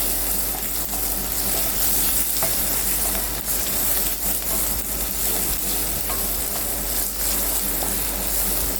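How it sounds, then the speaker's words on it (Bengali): Prawns and ground spices stirred in a hot frying pan, a steady close sizzle with scraping spoon strokes against the pan throughout, no talking. "আমি আস্তে আস্তে সব মশলাগুলো মেশাচ্ছি,"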